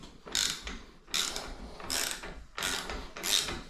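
Ratcheting hand tool loosening the threaded top cap on a Fox 38 mountain bike fork stanchion, five rhythmic rasping ratchet strokes close up with no talk.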